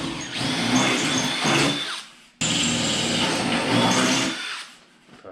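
A power impact wrench bolting a rail onto a homemade track sled (snow dog) makes two loud, sustained bursts of whirring and hammering, separated by a brief pause, with no voices.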